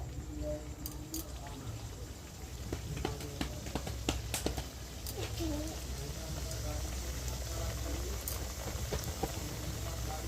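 Goja sweets fry in hot refined oil in a kadai over medium heat, giving a faint continuous sizzle with scattered soft pops and crackles.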